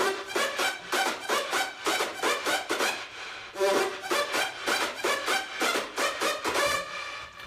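A synth lead, saturated with the Saturn plugin and washed in reverb, plays a quick rhythmic run of bright, buzzy notes that pulse evenly and close up throughout.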